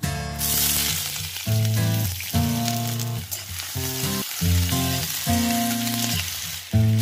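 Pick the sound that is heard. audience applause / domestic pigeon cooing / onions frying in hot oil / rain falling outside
onions frying in hot oil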